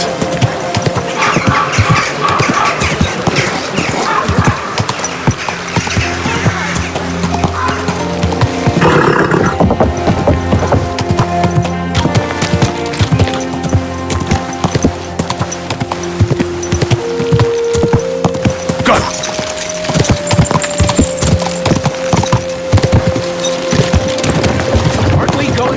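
Trotting horse hooves patter under loud, continuous game music in Kingdom Come: Deliverance II, with occasional whinny-like bursts and a steady rhythmic beat throughout.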